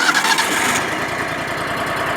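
A sawmill engine cranks and catches, then settles into a steady, loud running drone close by, with no talk over it.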